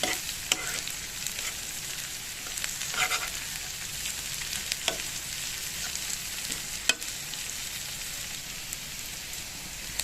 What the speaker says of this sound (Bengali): পেঁয়াজ আর কাঁচা লঙ্কাটাকে আমি দু মিনিট ধরে হালকা করে ভেজে নেব